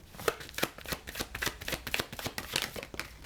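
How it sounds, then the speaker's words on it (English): Tarot cards shuffle rapidly and repeatedly up close, producing a dense run of crisp riffling and slapping flutters with no voices. "And now the cards are shuffling like ain't nobody's business."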